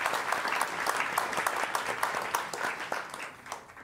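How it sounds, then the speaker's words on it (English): A live cooking show's studio audience breaks into a round of applause, with dense, close hand clapping that stays strong and then begins to thin toward the end. "One round of applause for them as well."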